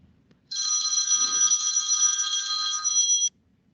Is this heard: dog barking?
no